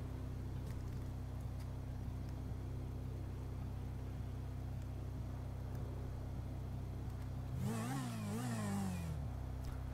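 A motorcycle engine idles steadily, then revs up sharply near the end in a couple of quick rising and falling surges, fairly loud and close.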